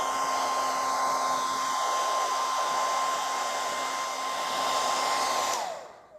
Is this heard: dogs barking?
no